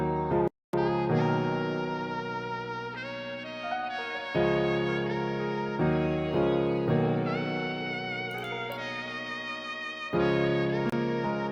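A synthesized chord progression loop built in FL Studio plays alone, with sustained layered chords changing every second or two over a repeating pattern, clear and steady throughout.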